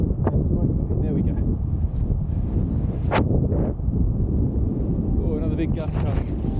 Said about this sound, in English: another big gust coming